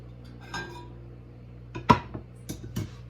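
Drained hamburger meat goes back into the pan, heard as a few scattered metal clinks and scrapes of utensil against cookware, with one sharper knock in the middle and quiet gaps between.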